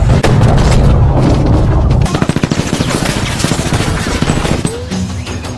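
Gunfire in a film scene: a dense roar of bursts gives way to rapid machine-gun rattles and single sharp shots, loud and close, with a faint voice near the end.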